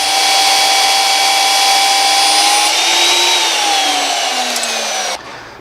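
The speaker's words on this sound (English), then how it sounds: "we'll go through it with our frame drill in one shot" A frame drill bores in one pass through 5/16-inch-thick steel truck frame on a Peterbilt 389, a loud, steady high-pitched whine with a slowly falling pitch as the bit cuts, stopping abruptly near the end.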